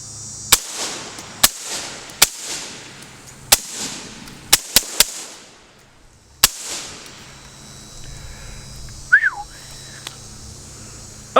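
Suppressed 5.56 rifle shots from a Rugged Razor suppressor, fired outdoors at a target: about eight sharp, loud reports spaced irregularly over several seconds, each with a short tail, then quiet with faint ambient sound.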